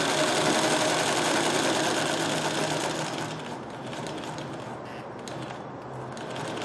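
Vintage sewing machine motor whirring steadily and close, first at a louder, faster pace and then settling into a quieter, slower run after a few seconds, with no talking.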